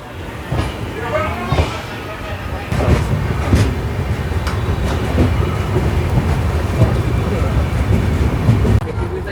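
The Haripriya Express rolls out of Kolhapur terminal on a single electrified line, a loud steady rumble with rhythmic clickety-clack of wheels over rail joints, heard from inside a coach with a voice talking over it.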